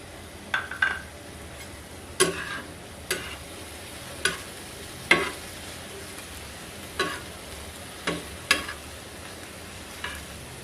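A spatula stirs chicken with ground red chilli and turmeric on a hot tawa, giving about a dozen sharp scraping taps at an uneven pace over a steady low sizzle, close and clear, with no voices.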